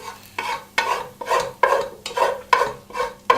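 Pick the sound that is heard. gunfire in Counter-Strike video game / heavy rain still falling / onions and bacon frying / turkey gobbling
onions and bacon frying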